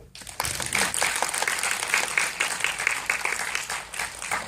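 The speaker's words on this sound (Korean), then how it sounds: "큰 박수" Audience applause fills a forum lecture hall after a talk on ship navigation, starting abruptly and holding steady as a dense, moderately distant clatter of many hands before easing slightly.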